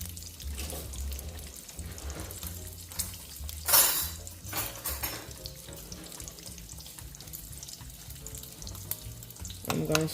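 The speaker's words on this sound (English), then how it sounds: "While that bacon is cooking," Faint sizzling and crackling of bacon frying in a pan, with a few louder clatters and scraping sounds now and then.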